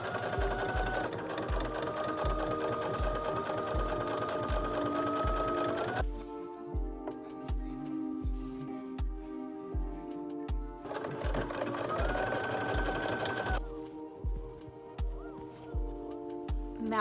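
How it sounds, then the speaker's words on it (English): Sewing machine stitching darts in fabric for a bandeau blouse, a steady rapid needle chatter running in two long bursts with a brief slower stretch between, close and loud with no talk. "When you are sewing your darts, make sure to sew as close to the edge as you possibly can"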